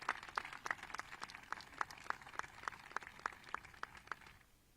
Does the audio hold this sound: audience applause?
yes